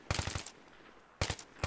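Gunfire in Battlefield 3 aimed at an ammo box behind a rock: a quick burst of four loud shots, a short lull, then two more shots and a final single report, all close and alone.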